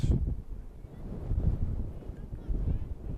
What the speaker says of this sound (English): Just listen to that wind.